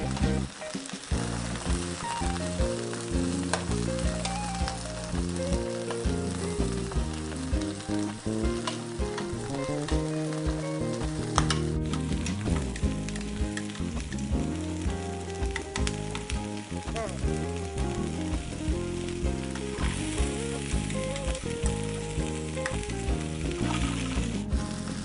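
Spanish tapas sizzle and fry steadily in a hot pan after being flipped, a dense, continuous crackle alone and close up with no talking.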